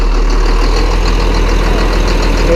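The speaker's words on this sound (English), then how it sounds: "this time we got the tractor running, so everything will circulate." John Deere 4840 tractor engine runs at a steady idle, a loud close diesel rumble with a constant low hum and no voices.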